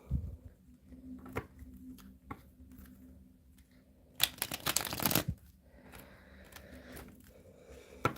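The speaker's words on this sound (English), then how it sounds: "One more shuffle." Soft handling of a Viking-themed tarot deck leads into a brief, crisp riffle shuffle near the middle, then quiet rustling; close, with no voices.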